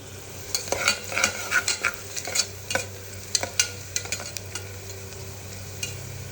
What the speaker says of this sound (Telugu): ఆవాలు వేసుకొని ఆయిల్లో ఫ్రై చేసుకుంటున్నాను